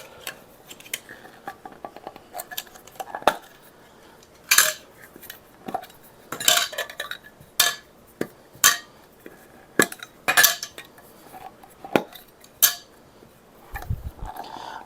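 Metal lids pried and lifted off a dozen small salve tins, a run of sharp, bright metallic clinks and clacks arriving in irregular bursts, close and fairly quiet with no talking.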